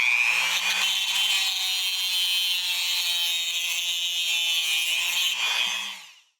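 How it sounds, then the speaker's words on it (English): Cutoff wheel grinding a groove down toward a piano wire axle, a loud steady high whine held for about six seconds before tapering off. "So I'm going to use my cutoff wheel. I'm going to grind until I see sparks"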